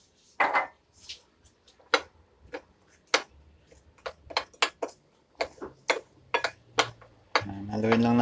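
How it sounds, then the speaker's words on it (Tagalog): A utensil stirs broccoli batter with water in a bowl, making irregular, close, sharp clicks and taps against the bowl's side in quick uneven bursts, with a voice speaking briefly near the end. "Haluin lang natin siya hanggang sa ganyan lang magiging consistency ng ating batter."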